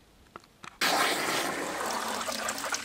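Water from a small aquaponics bell siphon suddenly rushes and drains after a brief quiet start with a few faint clicks, becoming a loud, steady gushing flow that continues to the end.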